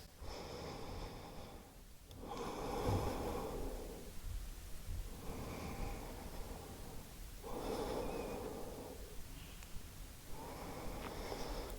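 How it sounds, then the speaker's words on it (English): Slow, full breaths during a seated twisting hatha yoga pose: close, airy inhales and exhales in an even rhythm, about four breath cycles, each a soft rushing swell with quiet pauses between, no speech. "stay here for a couple of nice full breaths"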